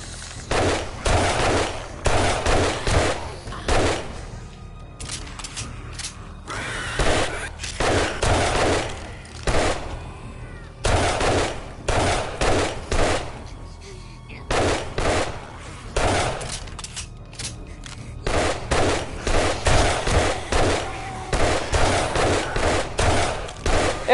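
Gunfire in the video game 7 Days to Die: loud, sustained bursts of rapid automatic shots in repeated volleys with brief gaps, dense and close throughout, no talking.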